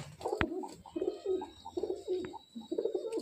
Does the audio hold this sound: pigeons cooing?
yes